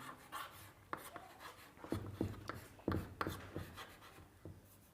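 Pen or marker strokes on paper or board during a class 12 calculus lesson on differentiability, soft scratching taps in uneven bursts, quiet and close with no voices.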